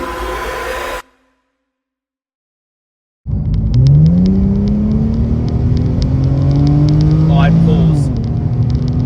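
Supercharged 2017 Holden VF SV6 engine: after a loud burst and a few seconds of silence, the engine revs and holds a rising, whining drone with supercharger whir and a final sweep up, heard close.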